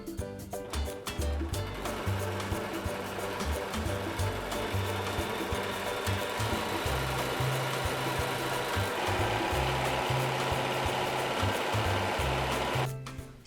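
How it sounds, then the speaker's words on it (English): A home sewing machine stitches quarter-inch seams in patchwork fabric using Aurifil thread. The motor hums in rapid bursts with brief pauses between runs, close and moderately loud, and no one speaks. "we're gonna go to the sewing machine and we're gonna stitch 1/4-inch seam on all 4 of these"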